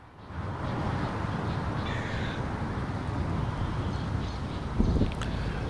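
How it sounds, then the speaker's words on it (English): Crows caw outdoors against a steady wash of wind noise, the calls faint and scattered over several seconds. "Here, I'm letting you listen to the crows here."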